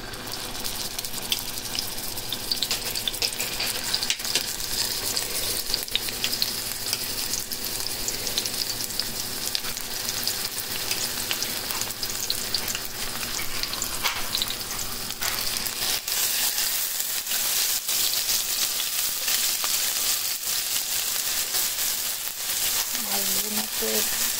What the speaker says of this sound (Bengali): তেলটা গরম হয়ে গেছে। আমি এখন পেঁয়াজ ব্লেন্ডার করে যেটা দিয়ে দিলাম।